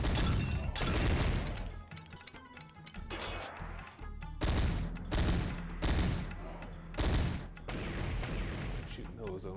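Loud, repeated gunfire bursts from the Sega Saturn shooter PowerSlave, blasting in close, heavy volleys with crashing impacts and brief gaps, under a game's ambient rumble.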